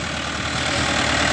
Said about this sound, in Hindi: ये देखो भाई, शानदार चल रहा है एकदम ट्रैक्टर, बिल्कुल जरा सा भी धुआं नहीं दे रहा